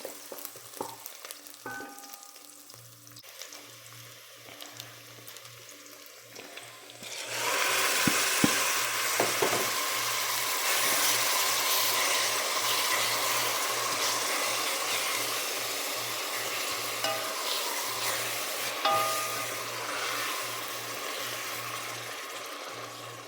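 Onions frying in a pan for shawarma, a quiet start with light clatter before a loud, steady sizzle sets in and continues with occasional stirring scrapes, no voices.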